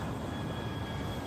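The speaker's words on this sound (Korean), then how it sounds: "어디서 드론 소리가 나네요?" A drone flies somewhere nearby during an outdoor New Year sunrise watch, giving a steady, broad whirring drone with no clear start or end that stays under the scene and carries no speech.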